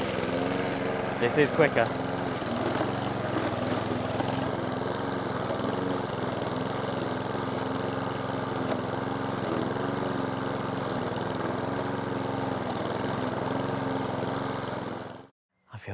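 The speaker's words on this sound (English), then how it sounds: "I feel guilty for ever doubting the trusty mower." An allotment lawn mower, restarted after a year unused, runs with a steady close engine drone throughout and cuts out abruptly near the end, while a person speaks briefly over it at the start.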